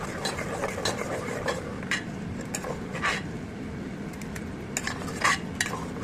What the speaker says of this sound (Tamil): நல்லா தேங்காய் போட்டு நல்லா கலக்கி விட்டுக்கோங்க.